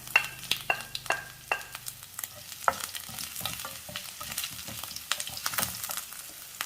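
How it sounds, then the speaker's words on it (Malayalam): Mustard and fenugreek seeds pop and crackle in hot oil, with a soft sizzle underneath and a low hum fading out early. "കടുക് ഉലുവായും പൊട്ടി"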